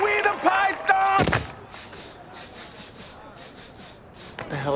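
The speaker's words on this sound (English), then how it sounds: "They're stomping the yard." Step dancers stomp the yard in a rival fraternity dance battle, a series of sharp, evenly spaced percussive stomps and slaps ringing out in a steady rhythm, with loud crowd voices and cheering at the start.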